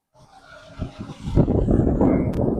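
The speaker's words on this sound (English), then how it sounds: "Sounds like he had an air leak up there when he hit his brake" A truck during a roadside inspection, its engine rumbling up and building in loudness, with a sharp hissing burst of escaping air near the end as the brake is applied.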